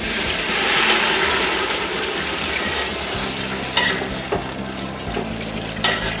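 Broth goes into a pan of frying tomato paste and garlic, bringing a loud sizzle that eases into steady bubbling, with a few light clinks of a utensil against the pan.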